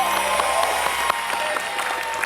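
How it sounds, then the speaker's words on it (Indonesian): Studio audience clapping on an Indonesian TV game show (Family 100), a steady, moderately loud burst of applause with faint musical tones in the background. "tepuk tangan dong untuk teman-teman kita nih"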